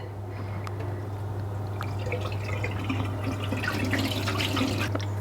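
Red rice flakes are swished and rinsed in water, giving a continuous soft sloshing and dripping close by over a low steady hum.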